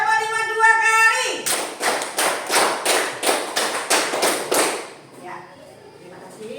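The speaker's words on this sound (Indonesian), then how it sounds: "tepuk 5 2 kali." Classroom children clapping a rhythmic pattern, a rapid burst of about nine sharp, loud group claps in steady succession, preceded by a sung or chanted tone and followed by quieter chatter.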